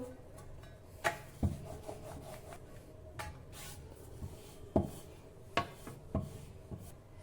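A rolling pin presses out a thin dough sheet for Nagpur-style pudachi vadi, dusted with gram or rice flour. It makes quiet, irregular rubbing strokes and soft knocks, close up with no talk.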